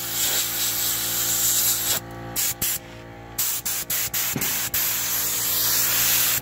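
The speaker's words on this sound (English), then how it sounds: "I feel sand blasting towards me" Continuous hissing blast of sand spraying near the mic in a shop while working on a 1987 Pontiac Fiero GT with a K20 engine swap, broken by several abrupt stops and restarts.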